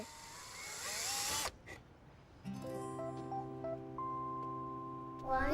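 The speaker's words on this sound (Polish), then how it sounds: "Tata wierci wiertarką otwory." An electric drill whirs steadily while boring holes for screws, a loud, continuous motor whine lasting about a second and a half, then gives way to sustained tonal notes.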